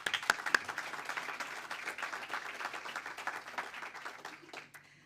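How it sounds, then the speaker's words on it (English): Audience applause at a product launch event, a steady broadband patter of many hands that holds for several seconds and fades out near the end, with no voices on top. "Round of applause, please."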